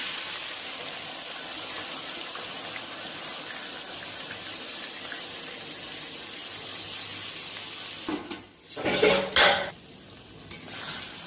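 Marinated chicken chaap spices are stirred in a pan, giving a steady soft sizzle and scraping that runs for several seconds, followed near the end by a few louder clattering knocks of utensil against pan.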